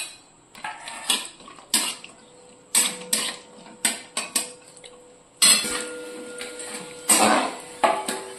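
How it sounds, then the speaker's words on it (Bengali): Cashews and raisins frying in oil in a home kitchen pan, with a spatula clinking and scraping against the metal in short, close, irregular bursts and a soft sizzle between them. "এরপর দেখুন আমি কাজু আর কিশমিশ গুলো সব ভালো করে ভেজে নেবো।"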